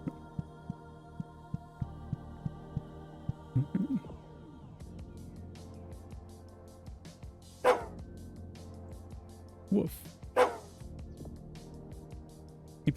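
A small white dog in the video game Psychopomp Gold gives a few short barks and yips over a low steady droning hum, the barks separated by gaps and close in the game's mix.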